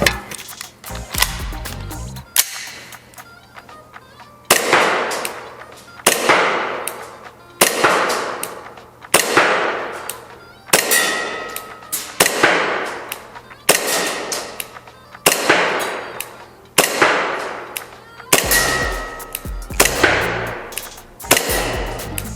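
Shots from a PTS Ed Brown 1911 gas blowback airsoft pistol on a Marui-based platform, fired one by one in a steady rhythm of about a dozen sharp, close, loud cracks with brief gaps between them.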